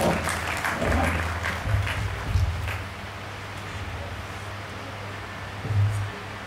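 Audience applause at a family get-together as a guest is welcomed, a brief burst of clapping at moderate level that fades into quieter room noise.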